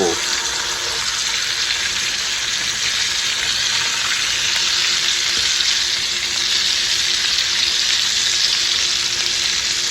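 Lamb chops sizzle on a griddle, a loud continuous close hiss of fat and meat frying, steady throughout with no breaks.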